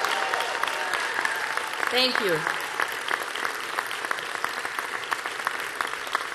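Campaign supporters at a Massachusetts Senate race event break into sustained loud applause and cheering. A speaker briefly talks over the clapping.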